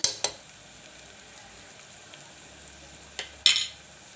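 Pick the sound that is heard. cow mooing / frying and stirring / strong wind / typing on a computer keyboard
frying and stirring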